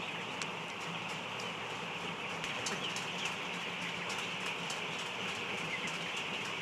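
A crowd of chicks fills a clean poultry house on a farm, a dense, constant chorus of high peeping with scattered louder chirps, heard close and with no talking.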